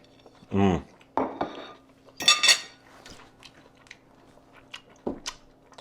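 Cutlery clinks against a plate and chewing follows as someone eats smoked black pepper steak bites with crispy vegetables over white rice, several short scrapes and taps, close and fairly quiet.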